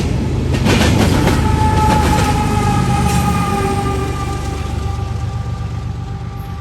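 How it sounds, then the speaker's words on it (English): Freight train climbing a hill at night, shoved from the rear by a Union Pacific AC-45 CCTE locomotive: loud, steady roar of engines and rumbling wagons with rhythmic clickety-clack and a faint horn-like tone, no voices. "Bringing up the rear of 179 is another Union Pacific AC-45 CCTE, shoving as hard as he can to get this train up the hill"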